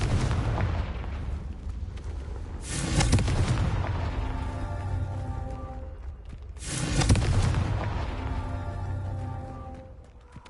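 Two heavy, booming blasts from the Confringo fire spell in Hogwarts Legacy, spaced about four seconds apart, each bursting loud and close over a steady bed of game music.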